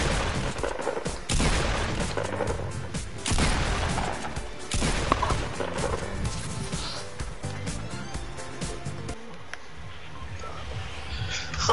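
Tommy gun bursts in Fortnite crack out in close, loud rapid volleys with brief pauses between them, with a few scattered impacts along the way.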